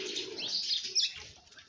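A pet pigeon, wet from the rain, coos and chirps close by, in a short soft burst with faint wing flutter and no talking.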